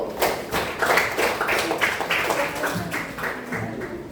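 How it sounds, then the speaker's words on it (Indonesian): A class of students claps hands for a presenting group in a classroom lesson, a loose, uneven patter of individual claps from a small group, moderately near and fading slightly toward the end. "beri tepuk tangan untuk kelompok 1"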